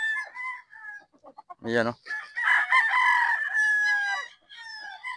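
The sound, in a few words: Pop Gray gamefowl rooster crowing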